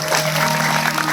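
A brief burst of crowd clapping honours a sadhu at a devotional storytelling gathering, with dense hand claps over a sustained tonal drone.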